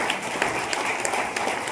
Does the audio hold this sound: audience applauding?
yes